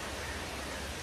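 Steady rain falling outdoors, heard as a dense, even hiss of drops with a low rumble beneath, continuous and fairly quiet throughout, with no voices.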